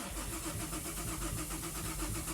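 A Mazda 6 with a swapped Ford Fusion engine running on an open header for its first startup, cranking with a rapid, even pulsing churn that stays loud and close throughout.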